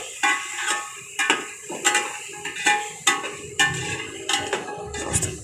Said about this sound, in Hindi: अब हम इसको थोड़ा सा भून लेंगे।